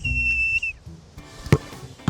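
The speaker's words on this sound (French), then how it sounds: "le coup de sifflet était mal fait" A referee's whistle gives one long shrill blast for a football penalty, then cuts off, followed by a few sharp thuds and faint background movement.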